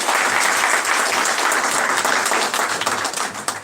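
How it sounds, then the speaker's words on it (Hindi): An audience at a welfare organization event breaks into dense, loud applause, a steady roar of many hands that tails off slightly at the end. "जोरदार ताली बजाइए इस बार"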